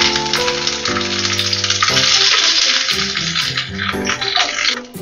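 Fruits such as dates and fresh and dried plums drop one by one into hot refined oil for a plum chutney, giving a steady hiss of sizzling under louder tuneful background music.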